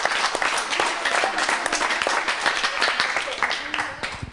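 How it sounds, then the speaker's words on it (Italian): Applause in an Italian TV football talk-show studio, a steady patter of many clapping hands lasting throughout, moderately loud, with speech mixed faintly underneath. "un applauso arriva"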